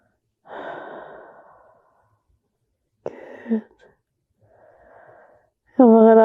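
Slow deep breaths during a guided relaxation exercise: a long exhale, a shorter breath, then a softer one, each separated by pauses, close and quiet, with a brief voiced sound at the end.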